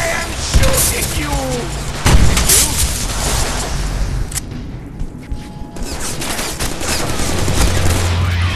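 Rapid gunfire in the PC video game Deadpool, loud bursts of automatic shots and booming impacts layered over busy game sound effects, fairly continuous throughout.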